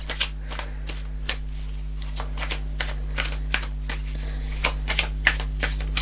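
Tarot cards being shuffled and drawn, giving a run of close, crisp riffling flicks and soft slaps in an irregular rhythm over a low steady hum.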